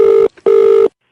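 A telephone rings on the line during a prank call, two loud, steady electronic ring tones separated by a short silent gap, each lasting about half a second, close and alone.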